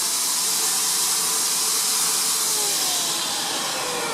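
A paint sprayer hisses loudly and continuously at close range while spraying projection screen paint, a steady broad airy rush holding even for several seconds.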